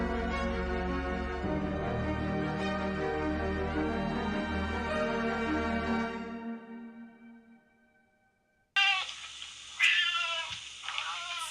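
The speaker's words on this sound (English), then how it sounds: "It's time for the caterwaul." Cat caterwauling, a long loud sustained yowl with rich wavering harmonics that fades out, then after a brief pause a harsher, noisier burst of wailing cries.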